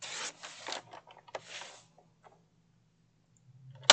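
A quilted-pattern paper sheet from a 4x6 notepad is cut into strips: soft scraping slices in quick bursts, a pause of near silence, then one sharp close click.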